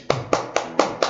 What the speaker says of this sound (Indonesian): Tepuk tangan dulu buat gue dong.